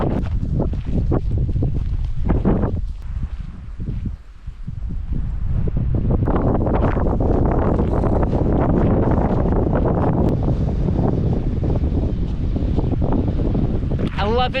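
Gusty wind blasts loudly against the microphone on an open mountain hike toward Mount Keen in Scotland, briefly easing before roaring back steadily for the rest of the stretch.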